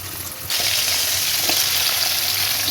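Potatoes and radish pieces hit hot mustard oil in a wok, setting off a sudden loud, steady sizzle that keeps going without any talk.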